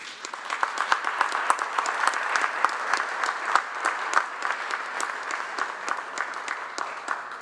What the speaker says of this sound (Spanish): Despidamos a nuestras autoridades con un fuerte aplauso